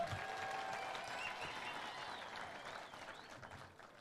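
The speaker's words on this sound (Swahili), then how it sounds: "pigieni Kimani Ichung'wah makofi" Audience applause at a Kenyan political gathering for Kimani Ichung'wah, a dense wash of clapping from a crowd, moderately distant and steady, tapering slightly toward the end.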